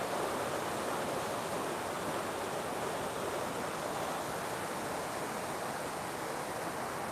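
The Huron River pours over a small spillway at Flat Rock, a steady broadband rush of flowing water, even and unbroken throughout with no voices.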